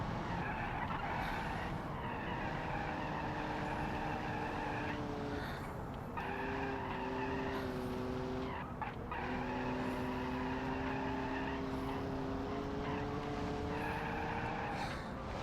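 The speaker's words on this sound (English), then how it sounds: "Just squealing the tires like crazy." Race car tires squeal in BeamMP at Suzuka, long sustained screeches that rise and fall in pitch over steady engine roar, with brief breaks between slides and no voices.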